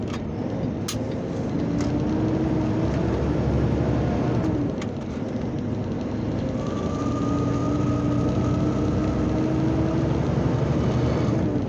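A truck engine drones steadily while the driver shifts gears, with the pitch dropping and settling and a brief dip in the rumble around the gear change, and no talking.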